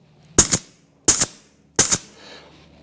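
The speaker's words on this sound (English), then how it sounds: "this is being an air grease gun. 3 pumps is like you guys doing 3 pumps on a regular hand one" A pneumatic air grease gun fires three sharp, evenly spaced pumps of grease into a Kawasaki KRX 1000 wheel bearing. Each burst is short and close, with quiet pauses between.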